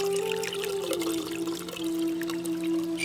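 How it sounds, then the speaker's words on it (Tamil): Tomato squeezed by hand is mixed into tamarind water for kollu (horse gram) rasam, giving a steady close liquid pouring and trickling sound with faint sloshing over a constant background hum. "இப்ப தக்காளியை நல்லா பிழிஞ்சிட்டு அதை கரைச்சு வச்சிருக்க புளியோடவே சேர்த்துக்கலாம்."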